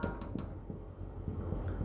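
Chalk or marker writing an answer on a classroom board, a continuous scratchy scraping with short strokes and slight rhythmic pulses, close and moderately loud, with no talking.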